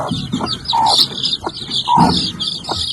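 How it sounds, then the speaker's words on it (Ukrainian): Young farm chicks recently hatched, peeping in rapid high repeated calls with a few lower clucks among them, close by, with no talk. "Це наші курчата, ті, що в нас вилупилися."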